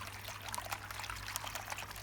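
Water trickles and pours steadily down a leaning evening primrose plant in a late-summer garden, a soft, continuous splashing that holds at a low level throughout.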